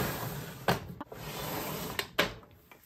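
A makeup drawer slides open with a few close, sharp knocks and rattles spaced over a couple of seconds against a quiet room background.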